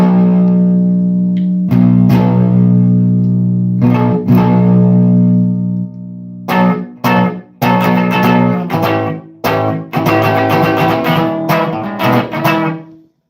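A Rickenbacker 325 electric guitar with all three pickups on, played through a Fender Tweed Deluxe amp with distortion, loud sustained chords ringing out, then choppy strummed bursts with short gaps.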